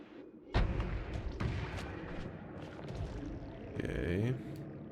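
Weapon fire in the video game Noita: a sharp burst hits at about half a second, followed by rumbling thuds and a later crackling, whooshing blast, all loud against background game noise.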